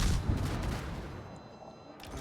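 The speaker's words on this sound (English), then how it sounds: "That was a pretty good volley." A World of Warships battleship's main guns fire an armor-piercing volley, a loud, dense rolling blast of overlapping booms that decays over about two seconds with no talk.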